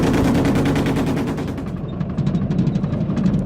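Gepard anti-aircraft gun, built in 1978, firing in a sustained rapid automatic burst that rattles out as dense repeated booms, loud and continuous throughout.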